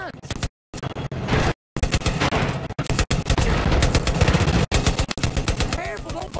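Rapid automatic gunfire from the video game Far Cry New Dawn crackles in loud, dense bursts with brief gaps, accompanied by in-game voices and other action sounds.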